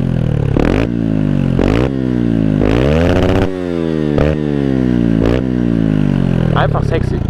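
A Beta RR 125 LC supermoto with the dB killer removed from its exhaust revs repeatedly while standing, sharp loud blips rising and falling in a rhythmic series, close by and dominating.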